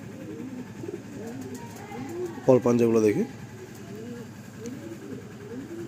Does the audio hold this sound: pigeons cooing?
yes